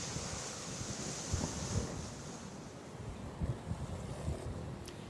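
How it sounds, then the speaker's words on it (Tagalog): Strong wind buffets the microphone in uneven gusts in overcast northern Cebu, a steady roaring rush with occasional louder surges and no voices. "medyo may kalakasan din ang bugso ng hangin"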